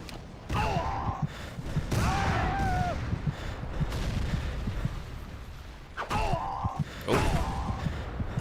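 A Colt rifle fires in an Xbox 360 Civil War battle game, giving a few heavy booming reports among a rumbling battlefield clatter, with short voice-like cries at the start and end.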